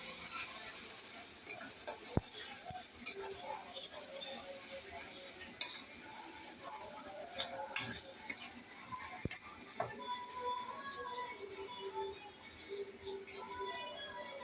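Spiced chickpea curry (chana) stirred in a pan with chilli powder, a steady soft sizzle under scattered scraping and clinking of a spoon against the metal, with occasional sharper knocks.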